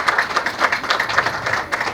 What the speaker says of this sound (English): Let's clap for Uganda.